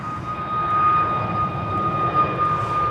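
A KLM Airbus A321neo departs Schiphol runway 24 for London Heathrow, its engines giving a fairly loud, steady roar with a clear high whine running through the brief stretch.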